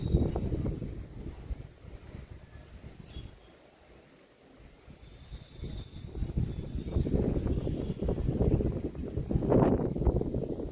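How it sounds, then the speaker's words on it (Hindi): Strong wind blows outdoors in cold weather, roaring against the microphone in uneven gusts that dip briefly before building louder again, with no voices over it. "देखिए कितनी हवा चल रही है"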